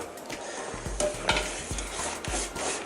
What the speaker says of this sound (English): Put butter everywhere.